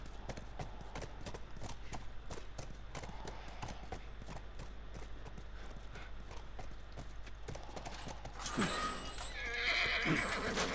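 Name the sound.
horse neighing in the video game The Last of Us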